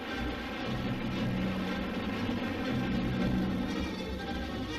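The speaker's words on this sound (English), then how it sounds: "Britain's warplanes are winging their way to Egypt" Steady, unbroken drone of British warplanes in flight during the Suez Crisis, a loud continuous engine roar from old newsreel audio with no voices.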